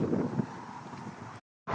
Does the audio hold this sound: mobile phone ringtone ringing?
no